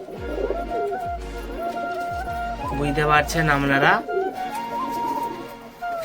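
Madrasi breeding-pair pigeons coo close by in a series of deep, repeated throaty calls with pulsing rhythm, while someone speaks over and between them.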